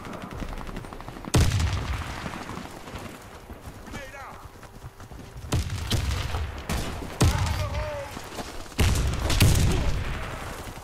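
Gunfire and explosions from the first-person shooter game Warface, with loud sudden blasts and bursts of shots at intervals over a continuous busy game soundscape, and a player talking throughout.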